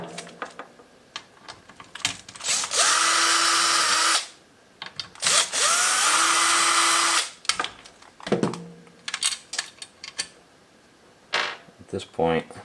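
Two bursts of a power tool backing Phillips head screws out of a KTM 390 Duke plastic fender, each whirring steadily for about a second and a half, with clicks and handling noises between them in a quiet workshop.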